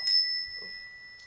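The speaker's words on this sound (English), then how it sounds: "there's that last ding and that chime" A single bright chime is struck like a bell in a music lesson, ringing with clear sustained tones that slowly fade, followed by a faint second shimmer near the end.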